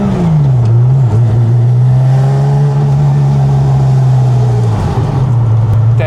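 A Honda NSX with a lightweight flywheel, tuned to about 295 horsepower, drives around a street. Its engine holds a loud, steady drone close to the car with small dips and rises in revs, and no voices are heard.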